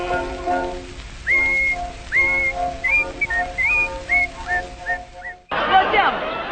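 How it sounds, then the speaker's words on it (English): A man whistles a cheerful tune, clear rising and falling notes in short phrases over a low musical backing, ending with an abrupt burst of noisy sound. "he's happy when he whistles this tune"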